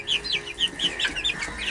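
Chickens and a young rooster clucking inside a coop built from a converted 1959 Chevy pickup, a run of short, close, rhythmic clucks and chirpy calls repeating through the moment without any voices.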